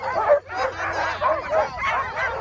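Sled dogs at the UP200 sled dog race bark and yip excitedly in a steady run of overlapping close yaps, with occasional whimpers mixed in.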